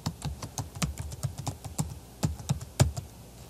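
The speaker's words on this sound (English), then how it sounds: "I'll click in and just start typing" Typing on a computer keyboard at a desk, with a steady run of quick, crisp key clicks and a few heavier strikes, close and clear with no talking.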